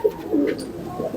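Indian Rampuri pigeons cooing close by, a couple of low throaty coos in a short burst with no talking.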